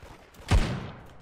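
A single loud Desert Eagle pistol shot from the Roblox game Da Hood cracks sharply, then leaves a long booming tail that fades over about a second.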